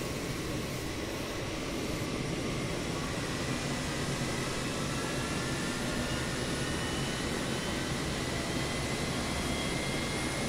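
A Boeing 707 jet engine spools up in a flight simulator game, a steady broadband roar and whine holding level for about ten seconds with no voices.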